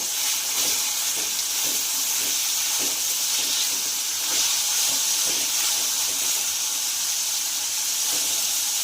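Finely chopped tomatoes fry in a pan with green chilies for paneer bhurji, a loud, steady sizzling hiss, close up, with faint scraping of a spoon stirring underneath.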